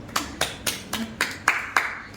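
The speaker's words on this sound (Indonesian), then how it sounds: "tepuk tangan dulu dong" Seven slow, distinct hand claps in a steady rhythm, close and fairly loud in a quiet podcast room, with no voices over them.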